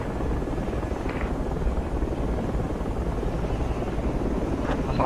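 A helicopter in the military shooter Project Reality, a dense continuous rotor roar and engine rumble that holds close and loud throughout, with no speech over it.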